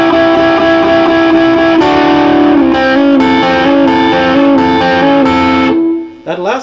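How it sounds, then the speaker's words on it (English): Electric guitar plays a driving 12-bar blues riff in A at full speed, loud repeating note patterns ringing close before fading out near the end. "So up to speed, it sounds like this."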